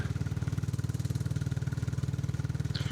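A motorbike engine runs steadily near the microphone in Gosport, a low, even, rapidly pulsing throb at constant speed with no revving and no voices.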